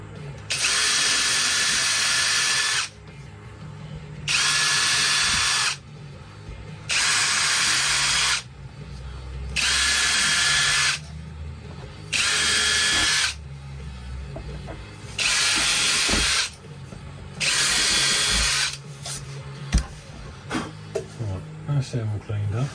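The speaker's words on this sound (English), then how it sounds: "So let's quickly drill them out" A power drill whirs in repeated bursts of a few seconds each, about seven in a row, drilling out holes in a vintage Silvertone Jupiter guitar, with short pauses and handling noise between them.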